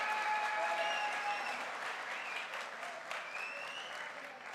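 A direct-selling motivational event audience gives a thin, steady round of applause that slowly fades, with a faint tone in the background.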